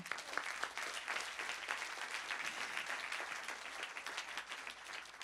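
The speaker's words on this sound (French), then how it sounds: "Je vous en prie, applaudissez Rima." An audience applauds at the opening of a conference on women of power and influence, with dense, continuous clapping at a moderate distance.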